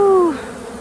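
A short, loud honeybee buzz drops in pitch and fades into a soft, steady hum of bees droning around a hive.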